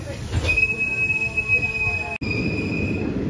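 Wheels of the Tirupathi Express squeal in a thin, sustained metallic whine over the low rumble of the moving train, with a brief sharp break near the end.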